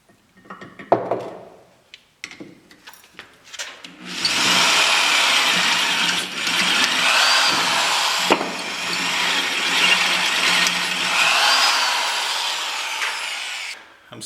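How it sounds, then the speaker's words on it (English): Power drill boring holes through steel while fabricating a custom transmission cross member, stepping up bit sizes; after a few short knocks, a loud steady whine runs continuously for about ten seconds with a brief dip, then stops. "Thought I'd show some fancy hole drilling."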